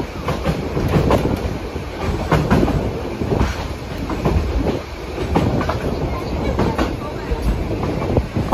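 A Children's Railway train rattles through the Buda hills, its cars clattering and wheels clicking continuously over the track, close and fairly loud, with a few voices faintly underneath.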